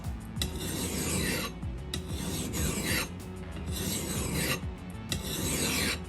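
A red-handled Simmons file rasps across the bit of a 4lb Tasmanian pattern axe in long, repeated strokes from toe to heel, a harsh close scraping with short pauses between passes.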